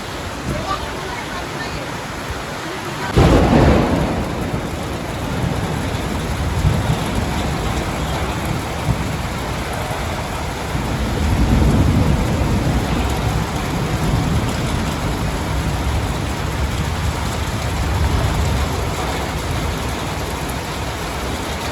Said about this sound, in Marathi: लाईट गेलेली आहे आणि जोरदार पाऊस चालू झालेला आहे.